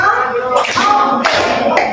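A school class claps together in rhythm, three loud group claps arriving in quick succession over a busy room.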